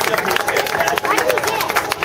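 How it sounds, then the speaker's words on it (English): An audience claps steadily through a stage magic show in Hollywood, a dense, continuous patter mixed with crowd murmur. "Give Pete a nice round of applause."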